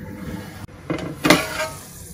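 A metal lid set down on a pot of mutton and chana dal curry, giving a couple of close clanks and a brief rattle as it settles.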